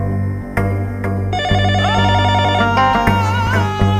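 A telephone rings with a bright, repeating electronic ringtone during a quiz-show 'phone a friend' call in an Indian TV advertisement. The ringing is loud, close and steady, with no voices over it.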